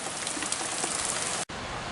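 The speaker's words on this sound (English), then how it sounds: "It looks like they made it rain a little bit." Rain falls steadily as a dense, even hiss of drops on surfaces, then cuts out for an instant near the end before resuming.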